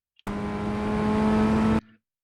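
A Ray FF1600 formula race car in iRacing revs steadily higher through its gears, one loud, close, continuous engine note rising in pitch for about a second and a half, then cutting off abruptly.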